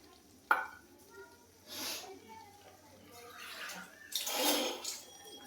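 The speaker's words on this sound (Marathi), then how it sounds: "यामध्ये पाणी टाकून घेऊ." Water poured into a pan of red onion-garlic curry masala, splashing and hissing in a couple of brief close bursts, the loudest near the end, amid faint kitchen clatter.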